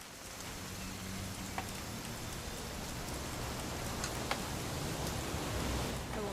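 Steady, even rainfall hisses in a video game setting, a continuous close wash of drops with a few faint ticks, and no voices over it.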